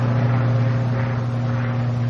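A North American P-51 Mustang's piston engine drones steadily in flight during a sideslip test, a loud, constant low hum without pauses.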